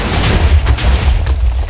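A cannon firing in the Minecraft-style PvP server SaicoPVP from a Lien cannon 40 stacker, a dense run of booming blasts over a rumbling low roar, loud and close.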